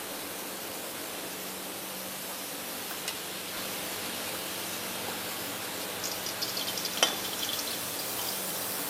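Ghee sizzles in a pan while Bengali home cooking is underway, a steady soft frying hiss with a few faint clicks and taps near the end.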